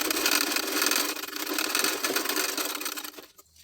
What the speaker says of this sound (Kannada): ಈಗ ಆರ್ಮೋಲ್ ಹತ್ರ ಇರೋ ಟಕ್ಸ್ನ ಸ್ಟಿಚ್ ಮಾಡ್ತಾ ಇದ್ದೀನಿ